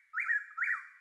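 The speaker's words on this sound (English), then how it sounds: "I've used this bird sound." Bird call sample used as ambient texture in a music track: two clear rising whistled chirps in quick succession, bright and fairly close, with nothing else underneath.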